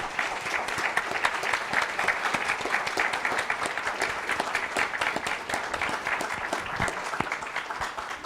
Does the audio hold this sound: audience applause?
yes